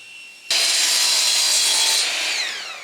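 Saw cutting wooden panels for a woodworking shooting board jig: a sudden loud, steady rasping cut starts after a short pause and runs continuously, easing slightly toward the end, close up with no voices.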